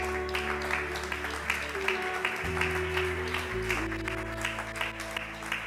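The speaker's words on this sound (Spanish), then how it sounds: "Démosle un aplauso al Rey." Audience applause at a church service, scattered claps and some cheering over sustained organ or keyboard chords, a fairly even wash of clapping that continues throughout.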